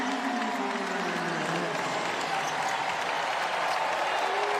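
A basketball arena crowd at West Virginia applauds and cheers steadily for the Mountaineers against Nicholls, a dense, loud wash of clapping and voices that holds for the whole stretch.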